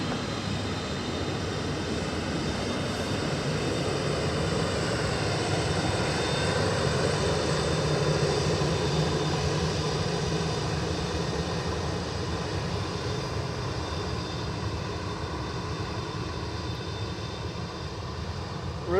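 A jet airliner lands on runway 28 left at Dublin Airport, its engine roar a continuous steady drone that holds for nearly twenty seconds at moderate distance.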